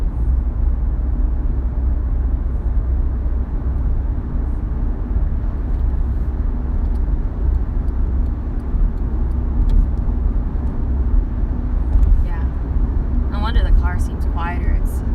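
Inside a moving car, a steady, loud low-frequency road rumble and engine drone fill the cabin throughout, with faint voices and light clicks toward the end.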